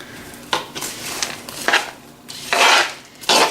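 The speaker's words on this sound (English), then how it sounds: "I'm going to give all this a quick mix" Pheasant salad ingredients with ground black pepper being stirred in a bowl, several separate scraping and clinking strokes of a utensil against the bowl, close and fairly loud, no talking.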